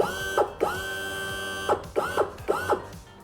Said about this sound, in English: So now I'm gonna hold this up and lower the motor in place.